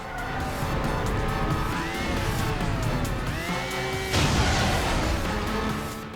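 An Aston Martin V12 Vanquish in a James Bond video game chases a truck with a loud, continuous engine roar, sweeping tire squeals and skids, and a sharper burst of noise about two thirds of the way through.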